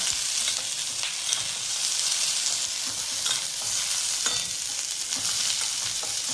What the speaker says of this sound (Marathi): आता भेंडी तेलामध्ये चांगली हे होऊन देऊया, मिक्स होऊ देऊया. ती चांगली हलवून घ्यायची आहे.